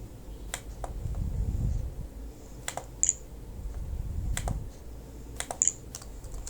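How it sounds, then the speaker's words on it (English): Computer keyboard being typed on in a few short, spaced bursts of sharp clicking keystrokes, close and fairly quiet, over a soft background hum and with no speech. "from title we're going to type home"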